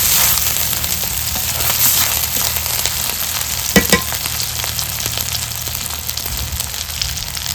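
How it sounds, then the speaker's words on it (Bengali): Crab curry with dried chili paste stir-fried in a pan, a steady close sizzle and frying crackle with scraping stir strokes, including one sharper clatter midway, and no talking. "তারপরে দিয়ে দিব শুকনো লঙ্কা বাটা ভালোভাবে কষাতে হবে"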